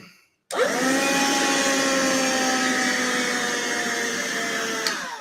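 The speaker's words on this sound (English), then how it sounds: "Just vacuum up this a little bit." A vacuum cleaner switches on with a rising whine and runs steadily and loudly close by, its motor tone settling as it continues, no voices.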